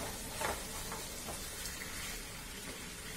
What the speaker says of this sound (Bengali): এবার আমি ঢাকা দিয়ে দিচ্ছি, ঢাকা দিয়ে দিয়ে কষতে থাকি